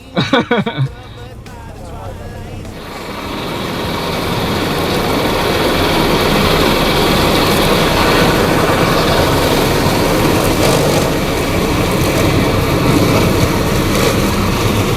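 A Chang sugarcane harvester engine runs steadily with a loud, heavy drone in a cane field at a sugarcane production demonstration event, after a few brief knocks at the start, with voices faintly mixed in.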